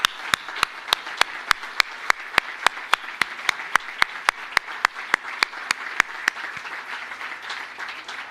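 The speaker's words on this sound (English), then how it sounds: "Can I please invite you all to give us a round of applause for all the merit recipients." Audience applause at a 2021 SACE merit ceremony honouring merit recipients, with sharp, evenly spaced claps standing out over a steady wash of clapping for about eight seconds before it thins out near the end.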